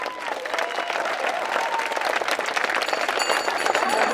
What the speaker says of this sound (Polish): Paula Kaczmarek, wielkie brawa!